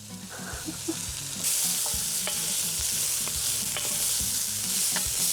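Onions fry in a pan with a steady sizzle while a utensil scrapes and stirs them in repeated, rhythmic strokes, close and fairly loud, with no talking.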